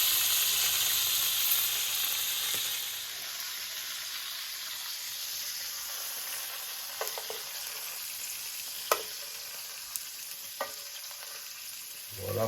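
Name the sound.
sausages sizzling while frying in a pan for cassoulet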